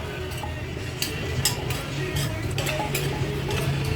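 Pestle scraping and pounding in a mortar while papaya salad is made at a noodle shop, with soft clinks and scrapes repeating through a busy, steady background of murmuring voices and kitchen clatter.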